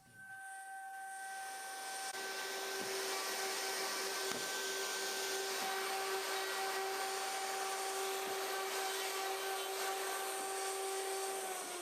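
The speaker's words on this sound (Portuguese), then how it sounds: "uso uma fresa de chanfro no roteador para limpar as bordas dos furos recém-perfurados" A router fitted with a chamfer bit cleaning the edges of freshly drilled holes in an MDF table top: a steady high whine with a sustained hiss and a few faint knocks, running continuously at moderate distance.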